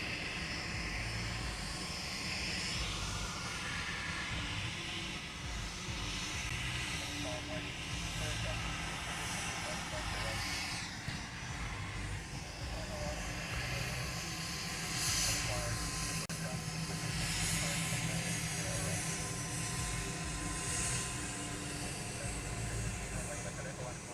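An airliner on a leasing company repositioning flight at Honolulu airport gives off a continuous loud jet roar and hiss that holds steady throughout.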